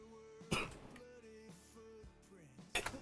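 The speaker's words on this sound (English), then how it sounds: "Not alright, I'm still coughing." A person coughs hard and clears their throat in two loud bursts, near the start and again at the end, with quieter breathy sounds and faint indoor noise between them.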